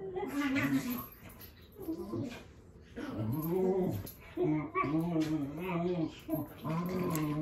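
A dog whimpers, yips and makes high, wavering whines in a long run of close, loud vocalizations with short pauses between them.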